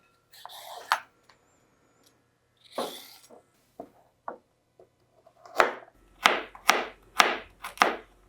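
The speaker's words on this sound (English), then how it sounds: "I'm first going to peel and chop the carrots and celery and onion" Carrots, celery and onion chopped on a board for lentil soup, a few scattered cuts at first, then a run of sharp, evenly spaced knife chops close by, with no talk.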